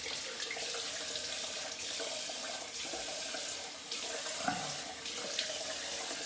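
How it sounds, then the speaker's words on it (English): Warm then cold tap water runs steadily into a sink while soap is rinsed off after a shave, a continuous close splashing stream with small shifts in flow and no talking. "So I rinse warm to get the soap off, and I rinse cold because it feels good"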